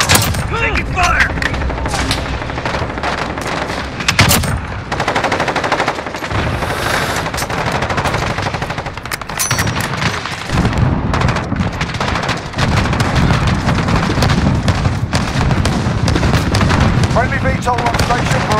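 Relentless gunfire in the Modern Warfare video game, dense machine-gun bursts and booming explosions loud and continuous throughout, with shouted voices mixed in.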